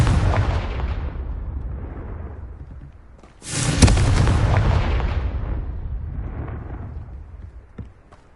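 A Confringo blasting spell explodes in a Harry Potter video game: a sudden loud, fiery burst midway that rolls into a long rumbling decay, set against a steady low game ambience.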